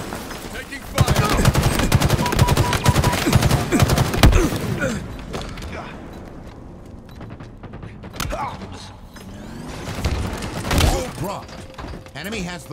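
Sustained automatic gunfire fills a Halo Infinite match, dense rapid shots with mechanical clatter, easing off midway then flaring again in later bursts, loud and close.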